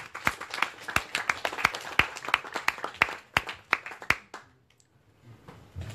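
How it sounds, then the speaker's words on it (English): A small audience at a business networking event in Brussels claps for a few seconds: sharp, close, uneven hand claps that thin out and stop, leaving near silence. "Warm applause to Pierre."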